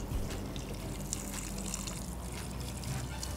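Soaked ponni and parboiled rice being washed by hand in water, a soft continuous swishing and trickling, close and quiet, with no talk.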